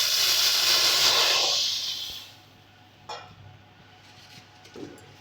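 Water splashed into a hot wok, a loud, close burst of hissing steam that fades after about two seconds, followed by a couple of faint clinks and small sizzles.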